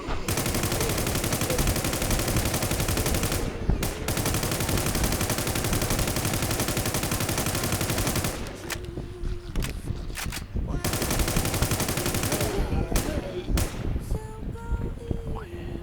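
Rapid gunfire from shooting a boss in the farming PvP game WarZ II, long dense bursts of automatic fire with brief gaps and short pauses between volleys, loud and continuous.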